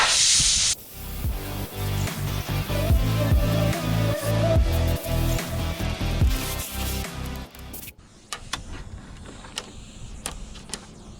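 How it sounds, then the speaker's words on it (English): Compressed air blow-off nozzle blasting around the rear window of a Nissan 350Z, a loud close hissing rush with fluttering pulses that runs for several seconds, then stops, leaving scattered small taps and clicks. "we're gonna go ahead and take the blow off nozzle and we're gonna blow off everything around"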